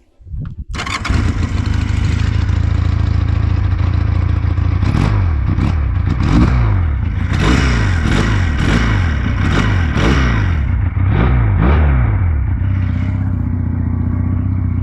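A Regal Raptor Pilder 250 motorcycle engine cranks and catches, then idles with a throaty twin-cylinder burble as the throttle is blipped repeatedly in loud, rhythmic revs.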